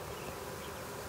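Honeybees in a hive that is being split on a double screen bottom board, with fresh frames added and a caged queen: a steady, close, continuous buzzing hum with no talk.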